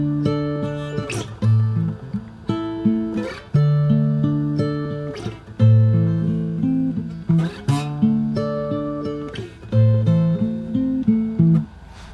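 Fingerstyle acoustic guitar picking three bars of a song, with plucked bass notes and chord tones ringing in a steady, gentle rhythm, close and clear with no voice.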